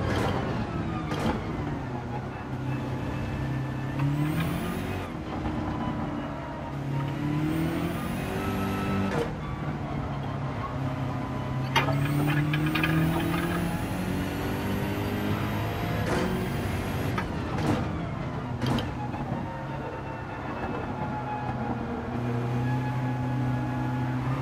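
Race car engine noise from Gran Turismo 7 in a wet race at Spa-Francorchamps, a loud, continuous roar with repeated rising and falling pitch sweeps through gear changes and throttle lifts over a constant spray-like hiss.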